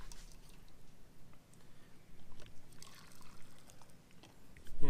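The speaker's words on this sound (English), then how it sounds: "I'm going to ladle off some of this this brine" Pickling brine for green beans ladled into jars, a soft continuous pour and trickle of liquid with faint splashes and clinks, fairly quiet and close, ending on a slightly louder splash.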